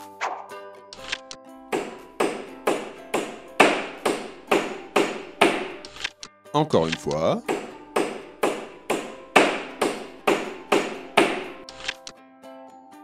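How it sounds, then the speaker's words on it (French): A hammer strikes repeatedly in a steady, even rhythm of about twenty sharp taps, close and clear, broken briefly by a short spoken phrase midway. "Eh oui, c'est un marteau."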